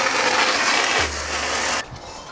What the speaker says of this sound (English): So I'm just using this parts cleaning brush just to get into the tight spaces.